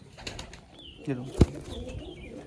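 Pigeons at a pigeon loft near Baruipur coo and call softly over a busy background, with one sharp knock partway through while someone talks nearby.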